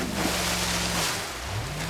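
A car drives into deep water in the BeamNG.drive game, a broad rushing, surging wash of water over a low engine drone that shifts pitch, loud and continuous.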